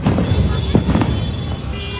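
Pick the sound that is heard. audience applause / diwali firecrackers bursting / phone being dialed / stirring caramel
diwali firecrackers bursting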